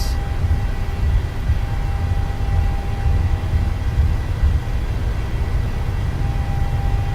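An airliner's takeoff roll in the PMDG flight simulator game, a steady low engine roar and rumble with a faint constant tone above, holding level throughout with no talk.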